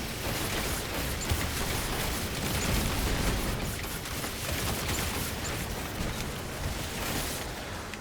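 Dense, continuous Destiny 2 gunfire with bursts, pops and mechanical clatter filling the whole stretch at a steady loud level, no voice over it.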